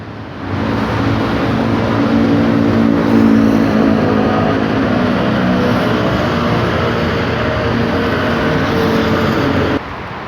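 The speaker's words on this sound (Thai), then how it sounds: "ก็มาแล้วนะครับสำหรับขบวนรถด่วนดีเซลาง ขบวนที่ 75 เส้นทางกรุงเทพหนองคายนะครับผม" Diesel express train no. 75, Bangkok to Nong Khai, rumbling past a sunflower field at Lak Si, a loud steady engine roar with a low droning hum that holds for nearly ten seconds before cutting off.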